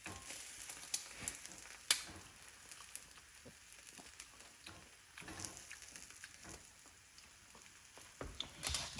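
A ham and tomato omelette fries in a pan with a soft, steady sizzle, punctuated by small crackles and a few sharper clicks, quiet and close with no voices.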